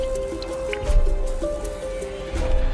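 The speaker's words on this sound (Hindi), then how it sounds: "मेरे ऊपर वाले सेल से मेरी लाइट में पानी लीक हो रहा था" Water leaking from a cell above into a light fitting, heard as repeated small drips and squishy wet splats over a low background hum with faint tonal lines; close, no talking.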